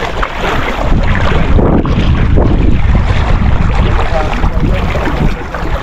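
Strong wind buffeting the microphone out at sea on a boat during crab hunting, a loud continuous roar with choppy water beneath, steady throughout with no clear speech.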